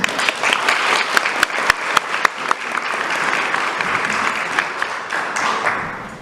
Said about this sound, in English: please give a round of applause for Eric Larson.